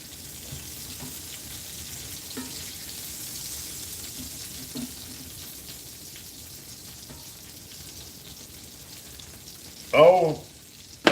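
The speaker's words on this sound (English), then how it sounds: "I'm making bacon and sausage, hash browns" Bacon and sausage frying in a pan for breakfast, a soft steady crackling sizzle in the background, with a brief louder clatter near the end.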